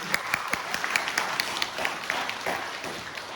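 Applause and clapping from a comedy show audience, a dense patter of many hands that holds steady at moderate loudness for a few seconds with no voices over it.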